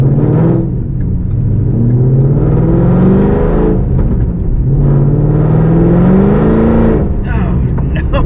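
A car engine revs repeatedly in rising and falling surges as the wheels lose traction, loud and close, with a voice talking over the roaring engine.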